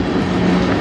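A CN M382 manifest freight train hauled by CN locomotives passes near Strathroy, giving a loud, continuous rumble of cars and wheels in a brief moment.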